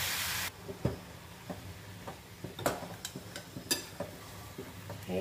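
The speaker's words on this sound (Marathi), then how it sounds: "हे सगळं मिक्स करून घ्यायचं व्यवस्थित" A spinach and dill mixture being stirred in a pan gives soft scraping and tapping strokes at an irregular pace over a low sizzle, close and fairly quiet.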